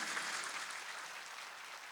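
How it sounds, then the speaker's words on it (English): Audience applause for a panel at the Jaipur Literature Festival, a steady wash of many hands clapping, moderately faint and continuous for the whole stretch with no voices over it. "I'd like a round of applause for this great panel."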